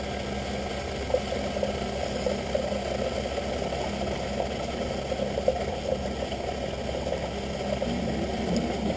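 A lens edging machine grinds eyeglass lenses down to size with a steady, even droning hum and a low rumble, continuous and close with no talk.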